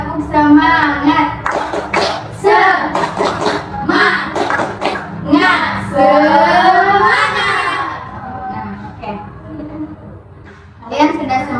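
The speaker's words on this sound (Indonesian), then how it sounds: "Tepuk semangat." Children in a group guidance session at school do a rhythmic spirit clap: sharp, patterned bursts of clapping mixed with chanted voices, fairly loud and close, with talk in between.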